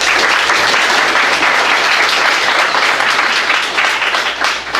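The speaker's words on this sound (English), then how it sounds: "I can just ask you to hold your applause or reactions of anything." Loud, dense clapping from the audience at a community services district board meeting held after a vote on a solar contract. The applause is sustained and even, then begins to thin out near the end.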